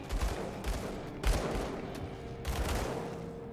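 Rapid bursts of gunfire crackle through a video game boss fight, several volleys a few seconds apart over a steady background rumble, with no one speaking.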